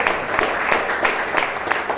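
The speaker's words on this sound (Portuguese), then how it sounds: "Pode aplaudir a palavra." A congregation at a church healing and deliverance service claps steadily in dense, even applause with no voice standing out.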